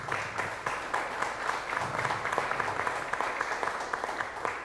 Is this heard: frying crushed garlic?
no